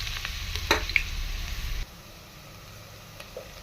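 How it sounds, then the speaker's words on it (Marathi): Onion goes into hot oil for a village-style Kolhapuri chicken curry, raising a brief, fairly faint sizzle with a clink or two that cuts off after under two seconds, leaving near quiet. "तेल येथे गरम झालेलं आहे आपण कांदा भाजण्यासाठी टाकणार आहोत"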